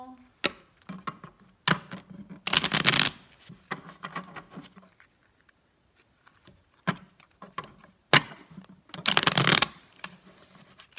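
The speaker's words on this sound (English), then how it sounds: "Just shuffling up these cards real nice for you." Cards are shuffled in a few brisk riffling bursts, separated by quieter pauses with light handling and soft tapping sounds.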